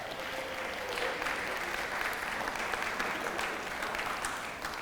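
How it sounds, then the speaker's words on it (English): An audience at a youth summit applauds continuously for several seconds, a dense, moderately distant wash of clapping with no speech over it. "yeah, round of applause."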